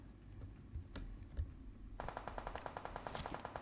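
Gunfire in PUBG Mobile: a few isolated shots at first, then a fast, sustained automatic burst of evenly spaced cracks that runs to the end, fairly close.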